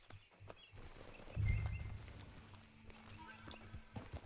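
Horse hooves in Red Dead Redemption 2 clip-clop as riders head out, a few soft hoofbeats with a louder thud in the middle, while people talk throughout.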